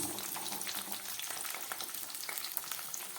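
Cauliflower and beans fry in mustard oil in a pan, making a close, continuous sizzle with light scraping and stirring. It is steady and fairly loud, with no talking.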